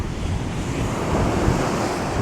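Strong wind roars steadily across a microphone by the sea, with surf rumbling underneath and no voices.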